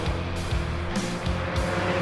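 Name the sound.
Spec Miata race car driving on track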